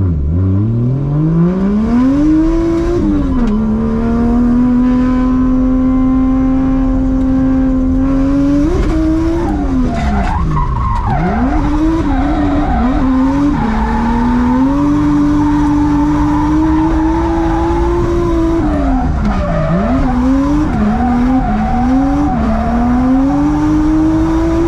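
A drift car on a practice run at a drift competition in Japan: a loud, close engine screams through rising and falling revs with sharp throttle blips and tire squeal over a continuous roar.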